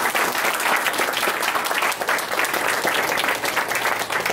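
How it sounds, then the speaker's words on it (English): Sustained applause rises from the crowd at a krump dance event, a thick, continuous burst of clapping that holds loud and steady throughout. "So show the round of applause for all the people."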